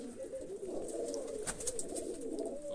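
Pigeons coo softly and continuously nearby, a low murmuring call repeating with faint background noise.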